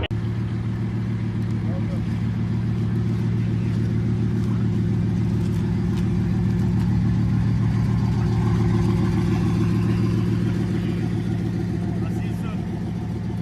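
A small, slow Koenigsegg replica with a top speed of 20 miles an hour runs with a steady, humming low engine drone, close by, while people talk over it.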